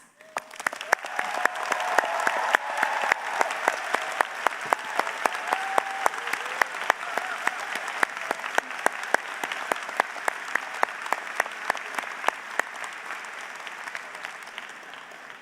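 Sustained audience applause at a Durham College convocation ceremony as faculty members stand to be recognized, dense steady clapping from a large crowd filling the hall throughout, with a few sharper individual claps standing out.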